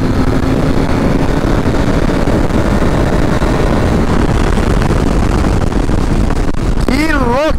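A Honda Africa Twin DCT motorcycle runs on the Interlagos track, its engine a constant, loud, rushing drone mixed with wind noise, ending in a brief, wavering, whine-like tone.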